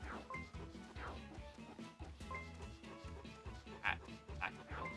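Stoutland, a big dog Pokémon, lets out game-style barks and yips in a Pokémon video game, several cries in a row over background music, at moderate level.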